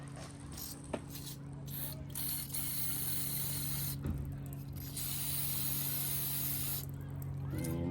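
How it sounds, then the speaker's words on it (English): Mass airflow sensor cleaner sprays in a quiet, steady hiss inside the intake of a 2012 Honda Civic EX, with a low engine-bay hum underneath and a couple of faint clicks. "you're gonna spray the inside here."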